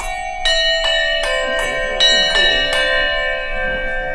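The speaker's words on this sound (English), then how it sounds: "Tittums is a small bell followed by a large bell, followed by a small bell, followed by a large bell" Church bells ring in tittums order, small and large bells alternating in a steady, evenly spaced sequence of about seven bright strikes whose tones ring on and decay, with no voices over them.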